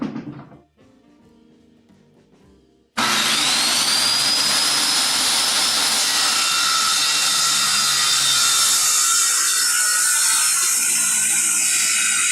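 After a quiet stretch, a power saw starts abruptly and cuts through lumber, a loud, sustained high-pitched whine that slowly fades toward the end.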